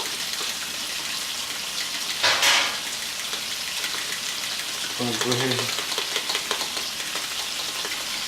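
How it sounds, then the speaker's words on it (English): Chicken sizzles steadily in a pan in the foreground with a continuous frying hiss, briefly overlaid by a short burst of noise and a few spoken words. "You can see our chicken frying up."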